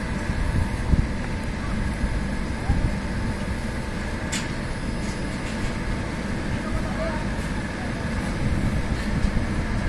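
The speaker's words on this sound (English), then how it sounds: "Yes, it is the Duronto coming in." The 12213 Yesvantpur Duronto passenger train rumbles past with a continuous heavy roar and rattling, faint horn-like tones and clanks carried over the din.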